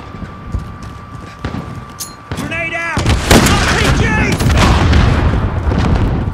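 Grenade blast and gunfire in Call of Duty Modern Warfare: a heavy explosion booms out after a few scattered shots, followed by loud rumbling, crackling combat noise, with a voice shouting over it.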